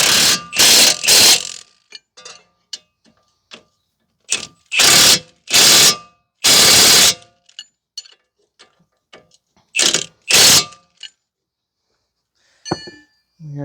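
A ratchet tightening hardware on the steering knuckle of a 2010 Toyota Corolla 1.8 during wheel bearing replacement, heard as several loud, close bursts of rapid clicking separated by pauses and a few quieter ticks.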